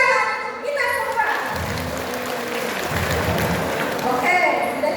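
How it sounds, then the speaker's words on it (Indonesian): An audience at a teachers' talk show breaks into dense applause that lasts several seconds, rising between stretches of a speaker's voice heard before and after it. "Terima kasih, tepuk tangan untuk kita semua"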